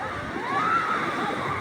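Shallow water washes in and sloshes with a soft gurgling swell, close and moderately loud, a single low surge rising and easing over about a second and a half.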